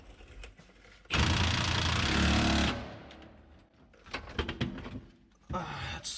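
An impact wrench tightens a bolt on a car in one loud, sustained buzzing burst of about a second and a half, followed by quieter clanks, shorter rattling bursts and someone talking nearby.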